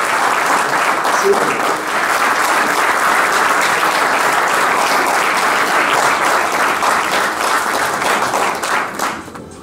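An audience at a restaurant award ceremony applauds in a sustained, loud burst for nearly ten seconds, tailing off at the end as a voice briefly speaks.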